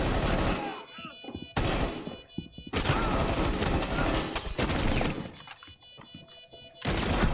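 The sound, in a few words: gunfire in video game Rainbow Six Siege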